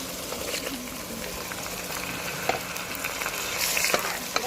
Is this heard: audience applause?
no